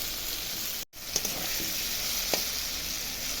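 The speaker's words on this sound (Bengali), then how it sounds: "আলুগুলো একটু ভেজে নিচ্ছি" Potatoes fry in a pan with a steady, close sizzle, broken by a brief dropout and a couple of light stirring scrapes.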